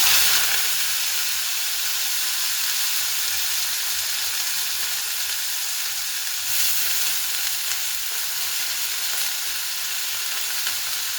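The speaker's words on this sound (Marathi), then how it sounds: "कढईत तेल टाकलेले, आता त्याच्यात गोबी टाकते परतायला" Cabbage fries in hot oil in a wok with a loud, steady sizzle and hiss, a continuous close crackling wash with a brief surge partway through and no voices.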